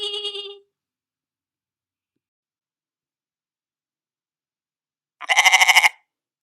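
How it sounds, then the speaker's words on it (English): A goat bleats twice, a short wavering cry at the start and a louder, quavering bleat near the end, separated by several seconds of silence. "Goat"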